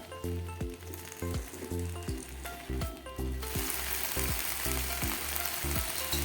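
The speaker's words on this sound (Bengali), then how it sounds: "এখানে আমি দেখতেই পাচ্ছ কাটা ভেন্ডি আর আলুগুলোকে অ্যাড করে হালকা করে নাড়ছি।" Cut okra and potatoes fry in a pan, a steady loud sizzle punctuated by repeated rhythmic clanks and scrapes of stirring, growing into a denser, brighter hiss partway through.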